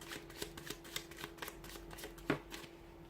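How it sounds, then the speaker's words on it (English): A deck of tarot cards being shuffled by hand, a rapid series of crisp riffling taps and flutters close up and fairly quiet, with no voices. "let's give the cards a shuffle"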